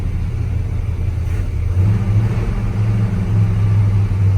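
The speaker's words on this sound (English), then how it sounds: "We got it running now. This guy feathered the gas a little." An old farm truck engine rumbles steadily up close as the gas is lightly feathered. The low, throaty drone swells a little louder about halfway through and holds there.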